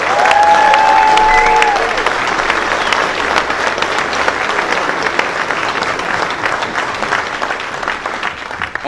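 A crowd at a 2022 drag racing industry event applauds the 30 under 30 class, a broad, steady wash of clapping with some cheering, loud at first and easing slightly across the stretch.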